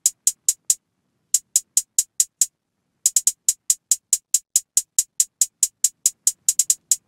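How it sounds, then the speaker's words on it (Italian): Crisp hi-hat hits in a simple drill beat pattern, a steady ticking run with a short gap and some rapid doubled rolls, quiet and alone with no other instruments. "Nella seconda parte entrano giusto gli hi-hat che hanno un pattern abbastanza semplice."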